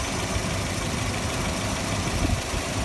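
Car engine idling with a direct vacuum leak, a steady rough broadband rumble with a slight uneven knock, close and constant, no voices.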